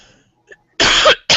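Two loud, rasping coughs sound close by, the first lasting about half a second and the second starting just after it, following a near-silent pause.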